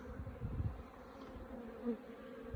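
Low, steady droning hum of many honeybees buzzing together close by around a hive, with a slight swell now and then, no voices.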